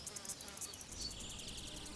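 Insects buzz among the blossoms of a flowering linden avenue in July, with hoverflies, bees and wasps around. A steady drone mixes with a rapid, regular high pulsing chirp, close and continuous with no voices.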